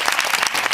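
A short burst of steady clapping and applause from a small group, dense and close, with no talk over it.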